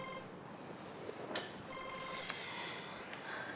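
A telephone rings in a short burst of repeated electronic tones over a steady background hiss, with no talking.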